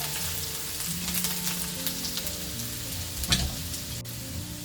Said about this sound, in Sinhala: චොප් කරලා සුදුරුණු බික් 3ක් විතර. එකතු කරගෙන මේ විදිහට පොඩ්ඩක් හොඳට අපි ෆ්‍රයි කරගමු.